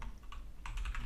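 Quick bursts of close computer-keyboard typing in a text editor, a few clusters of crisp clicks in short succession, with no talk.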